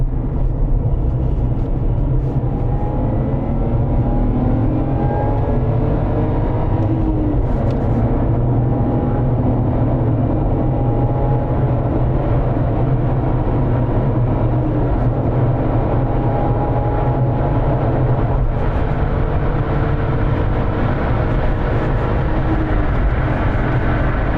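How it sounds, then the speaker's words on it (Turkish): A Lexus IS200 six-cylinder engine running loud and close, a steady, heavy drone whose tones rise and fall slowly as it revs, with no talking. "Ama o 6 silindir tiz sesi"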